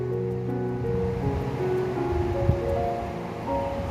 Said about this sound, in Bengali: এবার দিয়ে দেব আলুগুলো